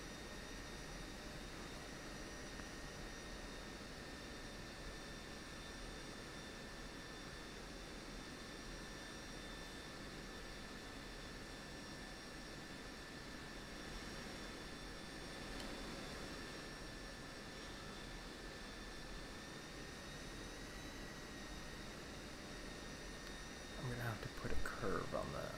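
F-16 Viper jet engine in the DCS World flight simulator during a takeoff roll, a steady loud whine and roar with high tonal lines held evenly throughout, a brief clatter near the end.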